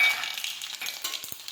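Garlic dropped into hot oil with mustard seeds, giving a close, bright sizzle and crackle with a few soft clicks of stirring.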